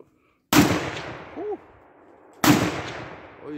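A handgun fires two loud, sharp shots about two seconds apart outdoors, each with a booming decay, and a brief faint voice-like sound between them.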